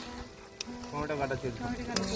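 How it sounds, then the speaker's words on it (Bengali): Onions fry in a pan while being stirred, a soft sizzle broken by scraping and clinking of utensils, with a faint tonal murmur in the background. "পেঁয়াজ ভাজা হচ্ছে"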